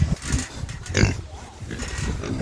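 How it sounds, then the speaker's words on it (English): Pigs at a farm grunt and snort close by, rough and low, in a few irregular bursts over a busy, noisy outdoor background. "go feed some pigs"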